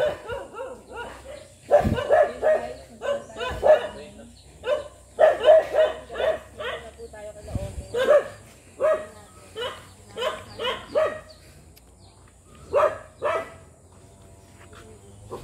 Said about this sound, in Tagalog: may aso, daming aso